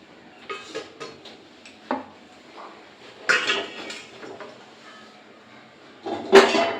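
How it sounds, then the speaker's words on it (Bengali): Small bowls set down one at a time onto a perforated metal plate inside a pan for steaming a rice cake, giving a few separate clinks and knocks at close range with quiet gaps between them. "একটা জালতি থালা নিয়েছি জালতি থালাটা এই কড়ের মধ্যে বসিয়েছি এরপর একে একে বাটিগুলোকে থালার মধ্যে বসিয়ে দেবো"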